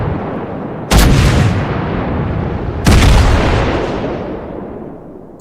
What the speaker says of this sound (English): So these are the Iowa's guns as they are in game.